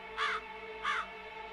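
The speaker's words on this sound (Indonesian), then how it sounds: "Malam itu saya melihat ada burung gagak." Two loud, harsh caws from a crow, each about a fifth of a second, spaced well apart over a faint steady background hum, perched in a house's backyard at night.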